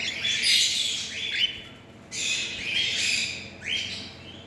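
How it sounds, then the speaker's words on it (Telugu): Pet birds kept at home chirp and squawk in shrill, repeated bursts, several overlapping calls close by with short pauses between them and no talking. "నేను ఈ బర్డ్స్ వచ్చేసి చాలా చిన్నప్పటి నుంచి పెంచాను"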